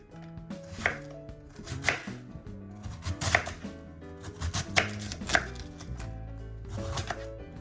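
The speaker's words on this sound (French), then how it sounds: "Donc vous lavez bien votre chou rouge et maintenant on va le couper en petits morceaux." Red cabbage being chopped into small pieces on a board, steady knife chops landing roughly once a second, close and crisp, with music playing underneath.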